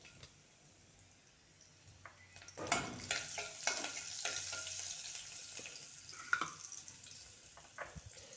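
Turmeric, curry leaves and garlic hit hot oil in a pan for shev bhaji tempering, a soft sizzle that jumps up sharply and then crackles on, with a few stirring clinks of utensils, fairly quiet and close.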